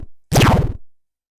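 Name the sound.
disappear vanish sound effect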